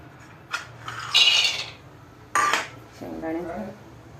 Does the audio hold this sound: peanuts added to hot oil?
yes